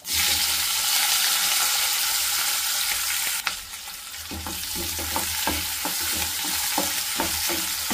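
Potatoes fry in a pan as onion and green chillies go in, a loud, steady sizzle at first that drops away, then returns with scraping stirs at a regular pace, close up and with no talking.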